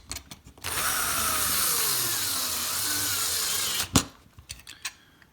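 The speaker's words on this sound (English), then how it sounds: "I'm going to put the second screw in." A power drill drives a screw to mount an electronic component, one steady whirring run of about three seconds, close and fairly loud, with a click as the drill stops and some faint handling noises before and after.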